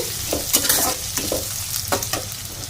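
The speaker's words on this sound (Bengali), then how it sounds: "এবার ভালো করে নাড়তে থাকবো যতক্ষণ কাঁচা গন্ধটা ভাবটা না যায়" Whole spices and slit green chillies frying for biryani are stirred in a pan, a steady close sizzle broken by several sharp scraping strokes of the spoon, with no voices.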